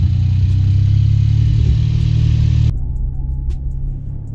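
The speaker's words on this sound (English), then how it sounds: "ZR2 right up the hill like it's nothing" A Chevrolet ZR2 truck engine pulls loudly and steadily up a steep off-road hill on a farm, then drops suddenly to a quieter, lower idle-like hum.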